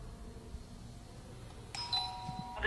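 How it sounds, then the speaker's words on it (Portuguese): An office doorbell rings once with a clear electronic chime that lingers briefly. It is heard from close range over a low, steady background hum. "tocamos a campainha, mas não encontramos ninguém"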